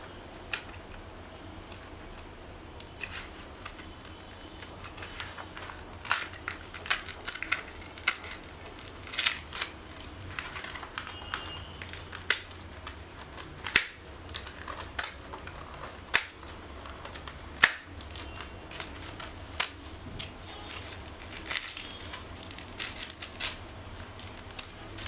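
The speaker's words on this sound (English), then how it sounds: "See, now I run the knife," A knife is drawn through foam board while a model airplane fuselage is built, giving a long run of close, dry clicks and small scratchy cuts at an irregular pace, with no talking.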